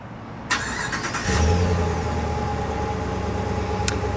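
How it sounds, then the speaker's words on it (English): A Ram 1500 Big Horn pickup engine fires up by remote start with a brief starter whir, then settles into a steady, deep exhaust idle rumble that holds close and constant. "So take a listen to the exhaust."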